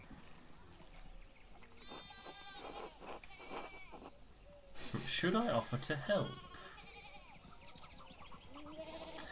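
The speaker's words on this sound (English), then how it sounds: "One of the fence rails fell and the sheep started hopping it." Sheep in the video game Pentiment bleat in short wavering cries between spoken dialogue, with a louder burst of bleating in the middle under the voices.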